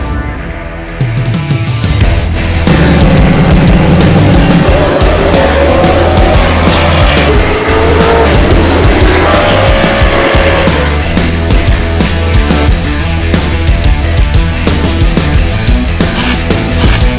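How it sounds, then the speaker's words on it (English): Race cars on a short oval track roar loudly and continuously, engines blaring with a dense wash of mechanical noise and shifting engine pitch throughout, with no talk. "Live short track racing."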